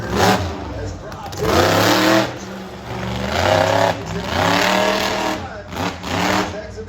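A monster truck engine revs hard at an outdoor exhibition in Redmond, Oregon, during a jump and sky wheelie, its loud, close roar rising and falling in several surging waves over a sustained rumble.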